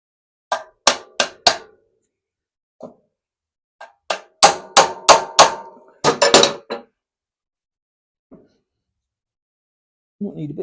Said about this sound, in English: with the tap of my little hammer